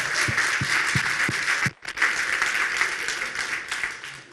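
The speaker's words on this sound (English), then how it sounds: "So a round of applause for them, please." An audience at a Grow With Google press event applauds with dense, fairly loud clapping, a few sharper louder claps standing out early, a brief dip partway through, then the applause carries on steadily.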